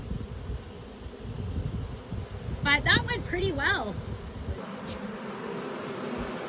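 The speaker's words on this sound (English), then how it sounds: "There's so many bees in there." A swarm of bees packed around an apiary hums in a dense, continuous buzz close to the microphone, with a person speaking briefly partway through over the steady drone.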